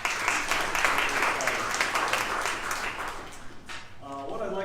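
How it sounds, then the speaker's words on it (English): Chamber of commerce breakfast crowd claps for medal-winning youngsters, a dense sustained round of applause that tapers off as a voice begins speaking near the end. "Give them a round of applause."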